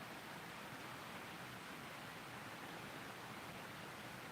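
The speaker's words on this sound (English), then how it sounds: "can't really hear it because of the river that's right beside us here" A river right beside the listener rushes in a steady, even wash of flowing water, faint and continuous with no other sounds on top.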